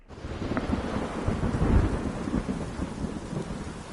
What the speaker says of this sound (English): Oh, it's a dark, stormy night.